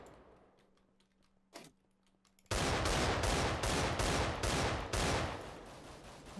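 Gunfire in the Minecraft game Mine Strike, a loud rapid burst of repeated shots after a quieter stretch holding a single earlier shot.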